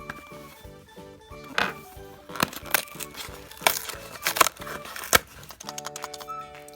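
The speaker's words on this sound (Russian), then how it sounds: "Киндер шумит." A Kinder Surprise chocolate egg is shaken during an egg unboxing, giving clustered plastic rattles and knocks in quick irregular bursts, close and moderately loud, with no talking.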